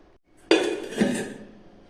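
A jar of salted mango pickle for Kerala-style achaar is closed and set down, giving a sharp clinking knock followed by a second lighter clatter, close by and ringing briefly in a quiet room.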